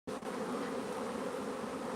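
Honey bees buzz around an open beehive in a dense, steady drone that starts abruptly and then holds constant and close, with no voices.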